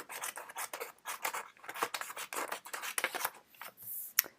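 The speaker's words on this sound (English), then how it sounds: "let me go ahead and cut these out" Scissors cut paper pieces out of a sheet for a craft project, a close run of rapid, crisp snips and rustling strokes coming in quick bursts with short gaps between them.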